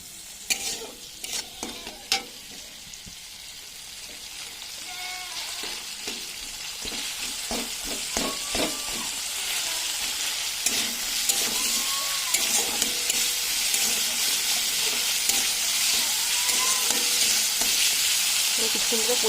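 Spice paste with chopped tomato, salt and turmeric frying in oil for a cauliflower-potato fish curry, a continuous sizzle under repeated scraping stirs that grows louder and busier over time, with no talk.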